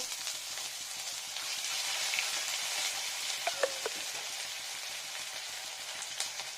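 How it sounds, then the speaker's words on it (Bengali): Bori lentil dumplings and ginger frying in a pan, giving a steady, soft sizzle with a few faint crackles and pops near the middle and end. "বড়িটা ঠিক করে ভাজতে হবে বড়িটা ফলাটে এবারে দিয়ে নেবো আদাটা"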